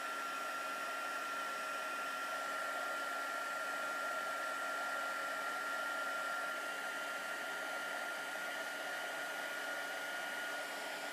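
A heat gun blows steadily for the whole stretch as it warms glue-pen stars on a Christmas bauble, a loud, even whooshing hiss with a faint whine and no breaks or voices.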